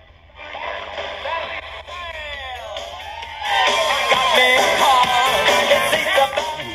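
Sony ICF-SW55 world band receiver turned up to full volume, its small speaker playing a broadcast of crowd noise, cheering and whistling voices, growing louder partway through.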